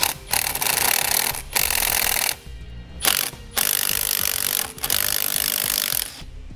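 Ratchet wrench loosening the 10 mm nut on the positive battery terminal of a 2017 Volkswagen Golf during a trailer wiring install, heard as repeated bursts of rapid ratcheting clicks and rubbing with short pauses between strokes.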